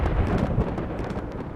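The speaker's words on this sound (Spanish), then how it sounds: "Una violenta tormenta se desató e inundó el hoyo." A violent thunderstorm with heavy rain flooding a pit, a dense, continuous low rumble and roar of thunder and downpour filling the short stretch at steady loudness, with no voices.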